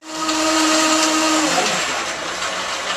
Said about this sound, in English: This is a Vitamix blender.